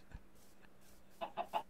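A chicken in Minecraft clucks three times in quick succession, short bright blips close together near the end, after a softer earlier cluck over a quiet background.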